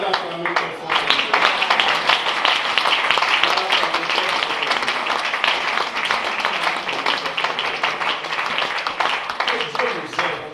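A church congregation at a fasting service claps and cheers continuously for about ten seconds, a dense, sustained mass of applause with voices mixed in.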